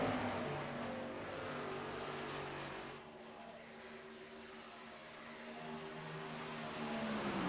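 Race car engines drone on the oval at Las Vegas Motor Speedway, a steady, distant roar that dips slightly midway and swells again, with no talk over it.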